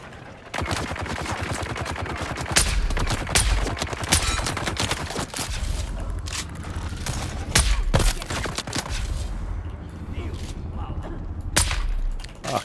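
Grenade blasts and rapid gunfire crowd a Dune battle on Arrakis, with repeated sharp bangs and bursts of shooting that keep going throughout, some booms heavier than others, and a voice talking over parts of it.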